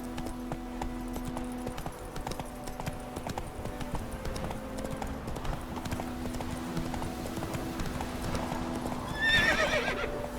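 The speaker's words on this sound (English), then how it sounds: "Whoa there, Roach. Come on." Geralt's horse Roach clip-clops along in The Witcher 3, a steady run of hoofbeats under tonal in-game music, with a sharp whinny rising near the end.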